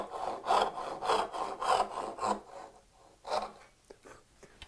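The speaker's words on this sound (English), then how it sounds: "even with a rip saw like this, it still works out fine" A rip saw with small teeth cuts a houndstooth dovetail in wood, giving a run of rhythmic rasping push strokes that slow and thin out into a few lighter scrapes near the end, close and alone.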